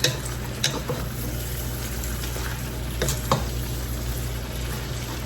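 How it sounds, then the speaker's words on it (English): Cabbage frying in a pan makes a steady close sizzle and hiss, broken by a few soft scraping stirs and light clicks of the utensil against the pan, with no voices. "There's a lot of moisture in cabbage, so it will cook down greatly."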